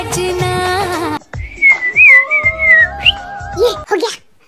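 Someone whistles a loud, close melody in short bursts, sliding through wavering notes, with brief voice sounds between the phrases.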